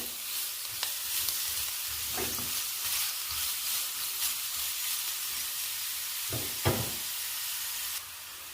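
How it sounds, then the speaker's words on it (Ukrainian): Carrots fry in a pan as part of a meatless red borscht with mushrooms, making a continuous close sizzle broken by a few soft knocks and stirring clatters. "І прожарюю пару хвилин із морковку."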